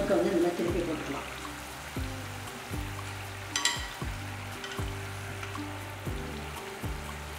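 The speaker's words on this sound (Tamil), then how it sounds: "இந்த சலசலப்பு அடங்கினதுக்கப்புறம் நம்ம என்ன பண்ணணும், முறுக்கை வந்து இந்த மாதிரி திருப்பி போட்டுக்கலாம்" Murukku frying in hot oil gives a steady, close crackling hiss that runs throughout, with a brief sharper burst near the middle, beneath a rhythmic tonal background.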